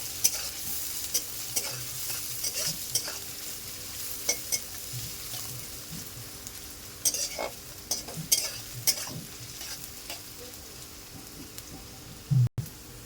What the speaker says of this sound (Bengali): গাজরটা হালকা হালকা ভেজে নেব।